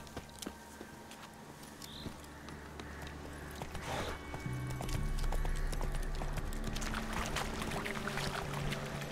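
Horse hooves clip-clop at a steady rhythm in The Witcher 3, fairly close and moderately loud, with a low rumble of movement growing stronger midway through.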